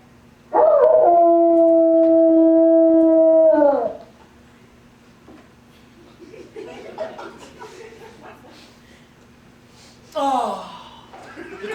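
A dog gives one long, loud, sustained howl, followed by quieter murmuring voices and a brief gasp or chuckle near the end.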